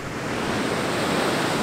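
Ocean surf at Kuta Beach in Bali rushes in a continuous broad wash, close and fairly loud, with some wind buffeting the microphone and no voices.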